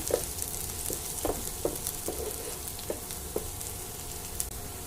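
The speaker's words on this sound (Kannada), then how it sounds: "ಈರುಳ್ಳಿನ ನೀಟಾಗಿ ಕೆಂಪಾಗೋ ತನಕ ಫ್ರೈ ಮಾಡ್ಕೊಳ್ಳೋಣ" Chopped onions frying in a pan for chicken pepper fry, a continuous soft sizzle with small crackles and pops recurring every half second or so, close up and with no voices.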